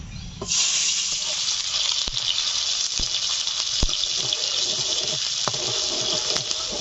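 Chopped onions and garam masala hit hot oil and start to fry, setting off a sudden loud, rushing sizzle that holds steady, broken by occasional sharp clicks of utensils.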